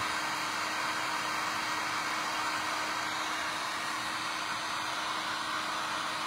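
A hair dryer blowing steadily while drying paint on a hand-painted poinsettia Christmas ornament, a continuous even whooshing hum, close and unbroken with no talk.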